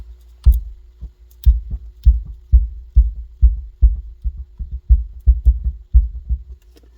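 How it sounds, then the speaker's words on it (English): Car stereo subwoofer in a 2007 Ford Expedition powering up after a fuse is plugged in, giving a series of deep low thumps in an irregular rhythm, close and fairly loud with no talk. "Subwoofer power up."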